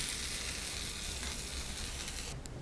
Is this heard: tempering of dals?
yes